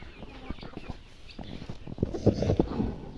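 Chickens and a rooster cluck nearby in a farmyard, giving short, low, irregular calls that grow a bit louder and busier toward the end, with some background rustle.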